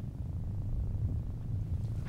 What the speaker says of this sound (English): When I get close to him, he seems to, like, purr?